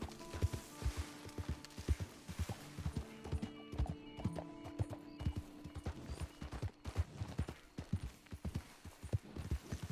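Horse hooves clip-clopping steadily while riding off-road in Red Dead Online, a close, continuous rhythmic clatter with a few whinnies and faint game ambience, no talk.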